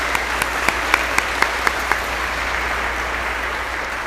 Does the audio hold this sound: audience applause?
yes